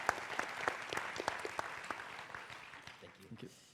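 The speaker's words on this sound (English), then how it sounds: "Let's give them a round of applause to thank them for their time." Audience applause for panelists at a food-industry conference session, with scattered claps fading gradually over a few seconds and some talking underneath.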